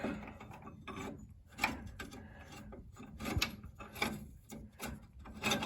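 A metal rod and washer scrape and rub as they slide through a car control arm bushing during a Nissan front end rebuild, producing close, quiet rasping and clicking in short irregular bursts.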